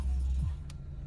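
A car engine is switched on and turns over, a low rumble that settles into a steady idle, close by and fairly quiet.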